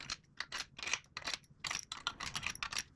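A ratchet clicks in quick, uneven bursts while engine head bolts are tightened on a budget race engine build, faint and close with short pauses between strokes.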